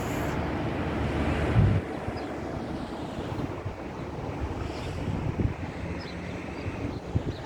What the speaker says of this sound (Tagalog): Humangin.